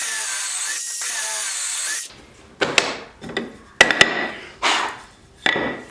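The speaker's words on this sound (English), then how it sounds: "When you're drilling your pocket holes" A power drill whirs into a wooden face frame locked in a pocket-hole jig for cabinet building, first a steady whine, then several short bursts of drilling with clunks and handling knocks between them, close and fairly loud.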